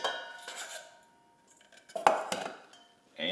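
A utensil scrapes and clinks against a bowl while rice with grass-fed ground beef and rinsed beans is stirred, a few soft close clanks and taps spaced apart in an otherwise quiet kitchen.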